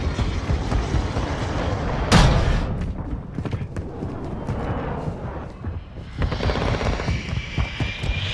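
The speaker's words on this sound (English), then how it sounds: "Hostile VTOL in the area" Hostile VTOL aircraft in Call of Duty: Modern Warfare II thrums overhead as a steady, loud engine roar in a busy combat mix, with a sharp blast near the two-second mark and the drone rising again toward the end.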